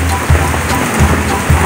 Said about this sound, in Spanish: Ya empezó de nuevo la lluvia,